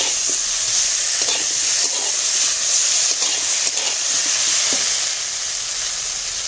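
A spice paste of mustard, poppy seed, cumin, coriander and fennel fries in a pan for a potato and drumstick curry, giving a loud, continuous hiss and sizzle with scraping stirs close by.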